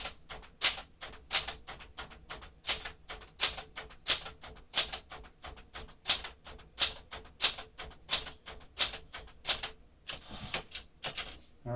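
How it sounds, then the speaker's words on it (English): A 1973 Smith-Corona Sterling manual typewriter clatters with steady, evenly spaced key strikes up close, each with a sharp metallic snap, then a short pause and a final carriage sound near the end. "just see how this typewriter works."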